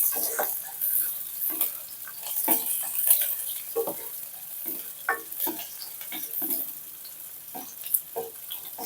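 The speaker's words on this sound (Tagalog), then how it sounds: "So, haluin na natin guys hanggang medyo mag-brown siya." Onion and garlic frying in a pan, a steady close sizzle broken by repeated scraping stirs at an irregular rhythm, with no talk.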